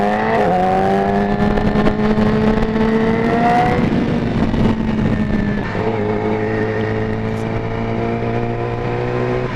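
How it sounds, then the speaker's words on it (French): A car engine drones up close, its pitch climbing and then dropping back, settling into a steady idle-like hum after a brief change midway. "Ah, c'est ma voiture ça."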